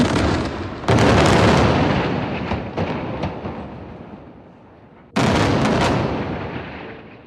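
Two huge building detonations go off a few seconds apart, each a sudden roaring boom that rumbles and slowly fades, with crackling debris in between.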